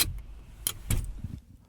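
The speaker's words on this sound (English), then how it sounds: "that was the sound of the club getting engaged" A steering wheel club lock is engaged inside a car, producing a few sharp metallic clanks and rattles close up, with brief gaps between them.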